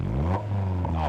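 A car with a newly fitted exhaust revs briefly from idle, giving a deep, loud, rumbling blip that dips and swells again in the space of about a second.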